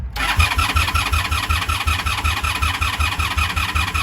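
A 1983 Honda Shadow VT750C motorcycle engine cranks with the choke on and catches, settling into a loud, steady chugging rhythm of quick pulses, close by with no talking.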